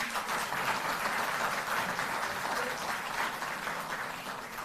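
An audience applauds at a ceremony where contract workers are regularised, a continuous wash of clapping heard at a distance, steady throughout and fairly faint.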